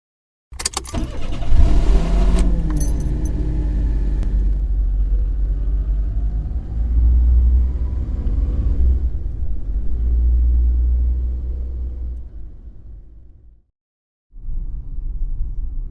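A car engine rumbles steadily while driving, loud and close with a continuous low drone, as a sound effect in a Cthulhu tabletop RPG session; it fades briefly near the end, then resumes.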